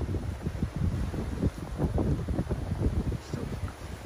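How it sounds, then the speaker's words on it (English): Strong gusty wind in the aftermath of Hurricane Ian, buffeting the microphone in uneven low rumbling bursts, with palms and shrubs thrashing, steady and fairly close throughout. "it's still pretty windy."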